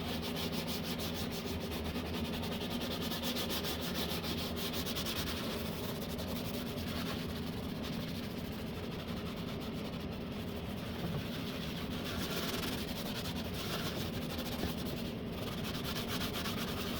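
Steady close rubbing and scrubbing as glue is worked off a Royal Enfield Continental GT 650 motorcycle part after spraying, a continuous abrasive friction with no talk over it.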